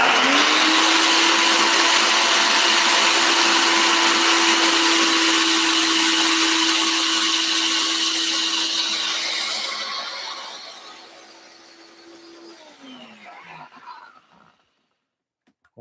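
A Ninja blender grinds oats into flour with a loud, steady high-pitched whir that holds for about ten seconds, then winds down and stops, leaving a few faint clicks.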